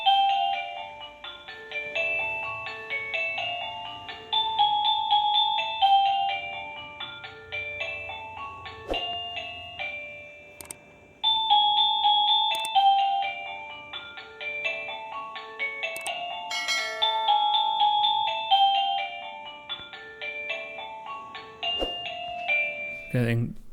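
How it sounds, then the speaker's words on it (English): An AVANTEK mini wireless waterproof doorbell cycles through several chime ringtones, bright electronic melodies and ding-dong tones following one another with brief pauses, close and clear. "So pretty much a lot of ringtones you can select from, and plenty of options."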